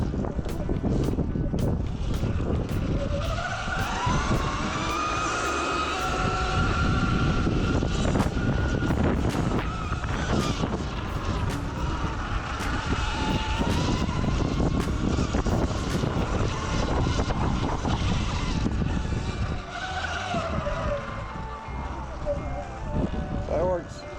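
A Sur-Ron Light Bee X electric dirt bike rides through sandy dunes in winter woods, its steady motor whine running loud and continuous with heavy wind buffeting across the ride.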